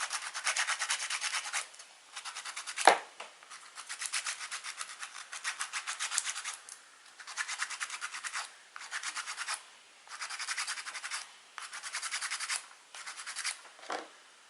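Nail file sanding a pen by hand, in close, soft, raspy bursts of rapid back-and-forth strokes separated by short pauses, with a faint knock near three seconds and no talk.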